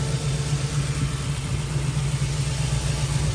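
A V8 engine in a 1967 Chevrolet Camaro idles with a low, lumpy, steady rumble, close and loud, with no voices.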